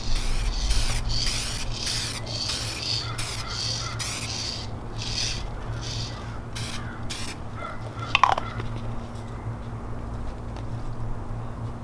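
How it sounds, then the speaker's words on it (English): Repeated short hisses of an aerosol can spraying a light clear coat onto a restored car headlight in quick bursts, close and loud, over a steady low hum, then a few more sprays after a pause. "the first coat we're gonna do a pretty light coat, and then when you spray it"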